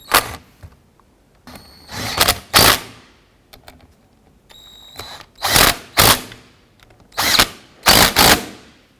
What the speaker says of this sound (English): I'm going to go ahead and get our bolts installed. I'm going to go ahead and snug these down.